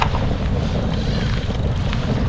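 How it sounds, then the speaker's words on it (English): Big waves slap and rush against a kayak at sea during a storm, with loud, constant wind buffeting the microphone in a dense roar close at hand. "Oh, big wave."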